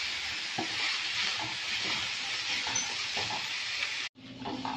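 Onions and a tablespoon of ginger garlic paste frying in a pan, a loud, dense sizzle with faint stirring clicks that cuts off abruptly near the end, leaving quieter kitchen sounds, no talking.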